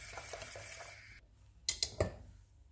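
Crème anglaise thickened with cornstarch being stirred in a saucepan: a soft scraping swirl for about a second, a brief quiet gap, then a few sharp clinks of a utensil against the pan, close and faint.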